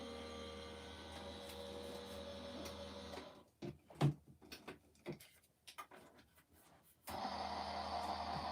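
A thick embossing folder labours through a papercraft embossing machine, giving a steady mechanical grinding hum that breaks into a few uneven creaks and knocks before the hum returns, close and fairly quiet.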